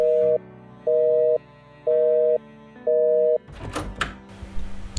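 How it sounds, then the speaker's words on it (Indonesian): A desk telephone sounds four evenly spaced electronic tone bursts, each about half a second, clear and close, followed by a brief burst of clattering noise. "Telepon di mejanya berbunyi."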